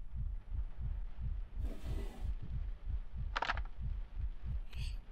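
A slow, steady heartbeat pulsing in the horror video game Layers of Fear, soft low thumps repeating evenly throughout, with a brief rustle and a couple of faint higher sounds over it.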